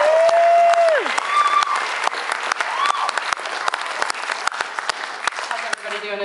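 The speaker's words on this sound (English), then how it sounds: "So please, warm round of applause, Miss Holly Bigmeyer." Loud, sustained applause from a talent show audience fills the room at close range, with dense crackling claps and a high whistle early on, the clapping holding steady throughout.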